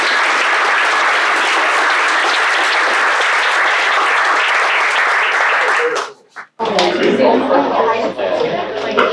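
A student audience at a Babson event applauds loudly and steadily for about six seconds, cuts off abruptly, then continues under chatter and a speaker's voice.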